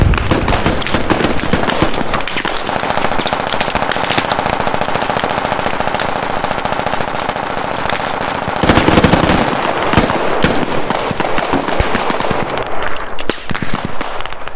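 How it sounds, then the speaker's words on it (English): Sustained gunfire in the Squad video game, loud and dense for the whole stretch, with rapid automatic bursts and a heavier blast partway through that fits a thrown grenade going off. "I'm gonna throw one more grenade over there."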